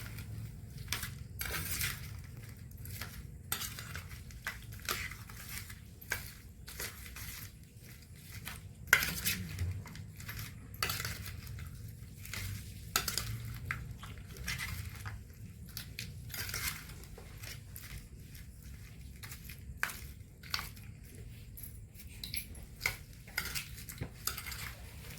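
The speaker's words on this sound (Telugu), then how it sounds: "ఆ తాలింపు అనేది కలిసేలాగా మనం ఇట్లా కలుపుకోవాలన్నమాట గంటెతో." A metal ladle stirs mango pickle tempering in a pot, giving repeated scraping clinks and knocks in an irregular rhythm, close and fairly quiet, with no talk.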